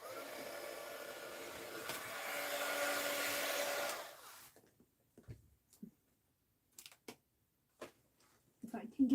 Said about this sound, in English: My heat gun.